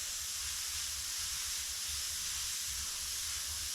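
A steady, airy hiss of an airbrush spraying black paint runs unbroken throughout, faint and even, over a low background hum.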